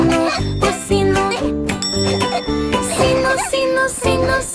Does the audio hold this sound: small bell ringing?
yes